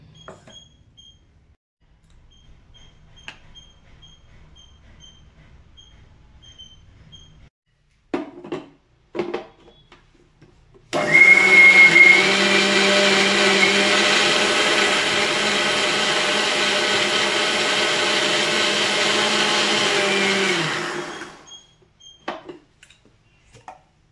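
A mixer grinder whirring steadily for about ten seconds as it blends mint leaves with a little water into a paste, a loud continuous close-up motor drone between quieter handling clatter before and after.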